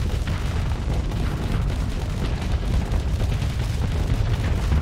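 Spaceship weapons fire during a space battle in the game Starsector, making a dense, continuous rumble of booms and bursts with no talk over it.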